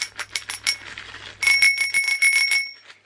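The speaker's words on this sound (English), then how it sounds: "The next thing he got me is again for my bike. It's just a little bell." A small red bicycle bell is flicked repeatedly, giving rapid bright metallic dings that ring on in a sustained shimmer, loud and close, with no talking over it.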